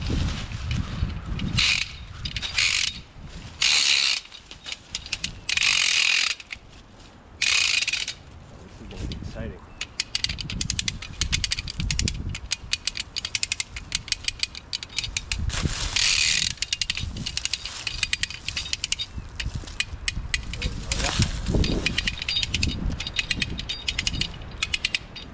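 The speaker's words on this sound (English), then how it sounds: "let's run our cord through our rope puller here. Take out the slack." A ratcheting rope puller takes up slack on a line strung to a tree, giving bursts of sharp clicking ratchet strokes between pauses, close by, with some quiet handling noise.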